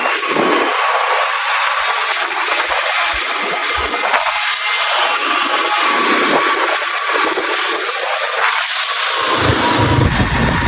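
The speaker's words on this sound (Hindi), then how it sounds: "ये देखो आप, ट्रैफिक कितनी जाम हो गई है।" A traffic jam on a bypass road under construction fills the scene with a continuous blend of idling engines and a broad roadside roar that holds steady throughout and swells near the end.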